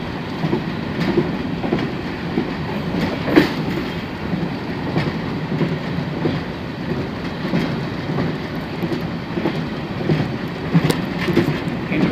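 A freight train on the move in Pakistan, a steady, loud rolling rumble of wheels on rails with rhythmic clickety-clack beats and occasional faint squeals, continuous and close throughout with no talk.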